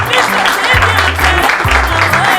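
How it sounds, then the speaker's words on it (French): Guests applaud loudly at a wedding reception entrance, with continuous close clapping under lively music with a thumping bass line. "On applaudit ces sangliers."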